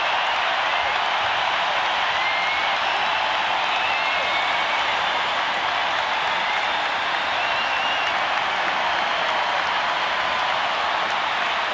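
Stadium crowd at Tropicana Field roars and applauds after a home run in a Devil Rays–Indians baseball game, a steady dense wash of cheering and clapping sustained throughout.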